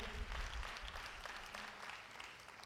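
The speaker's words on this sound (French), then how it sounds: "Allez, on va acclamer le Seigneur." A church conference audience applauding to acclaim the Lord, dense sustained clapping from a crowd that holds steady and tapers slightly.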